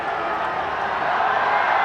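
Rugby stadium crowd at a 1999 Tri-Nations match, a steady, loud roar of cheering voices throughout, building slightly toward the end.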